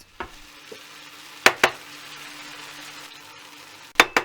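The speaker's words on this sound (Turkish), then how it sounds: "sürekli karıştırarak kıymamızı da kavuruyoruz" Ground beef browning over high heat in a pan, a low sizzle under a few sharp scraping knocks of a utensil stirring and tossing the meat.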